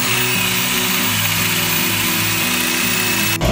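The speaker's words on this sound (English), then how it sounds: "We're switching to the good, reliable Ryobi power drill that we've had for about" A Ryobi corded power drill running at a steady high whine, loud and continuous with slight pitch wavering, stopping abruptly at the end.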